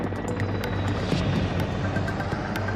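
A Mil Mi-8 helicopter in flight, a loud, continuous rotor and turbine roar with a steady low throb and a broad rushing wash, with no voices.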